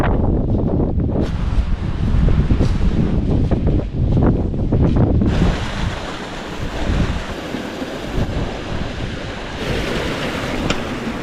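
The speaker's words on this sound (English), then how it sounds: "it's really funneling the wind down and in" Strong wind funnels down a steep-sided mountain valley toward a glacier, a loud continuous roar with gusty buffeting on the microphone and no talk over it.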